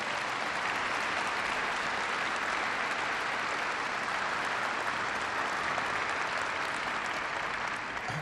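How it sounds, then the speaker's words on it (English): Dense, sustained applause from a large conference audience, a continuous even roar of clapping with no pauses, filling the whole stretch. "Please give her a big round of applause."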